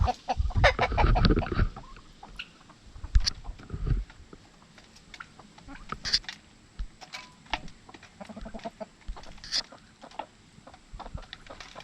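A broody silver-laced hen clucks in short, scattered bursts, close by, with soft rustling and tapping between the calls.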